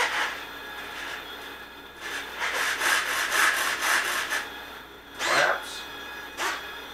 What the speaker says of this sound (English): If you hear any humming going on here, it's the servos on this thing